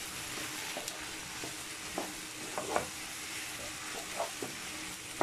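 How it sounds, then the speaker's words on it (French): Tomatoes sauté in a pan for an okra sauce, giving a steady close sizzle with scattered soft stirring scrapes and taps throughout. "Alors on va faire revenir les tomates avec l'ensemble de la préparation."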